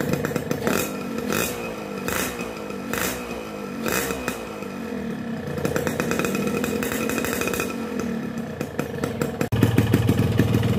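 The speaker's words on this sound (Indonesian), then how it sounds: "ini adalah kondisi pada saat awal banget mesin gua nyalain" A two-stroke motorcycle engine idles just after a cold start, on a rich carburettor setting and running GPA X1 2T two-stroke oil. It makes a loud, close, steady burbling putter with uneven pulsing, and no voices are heard.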